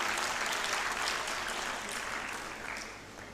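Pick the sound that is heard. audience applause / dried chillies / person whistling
audience applause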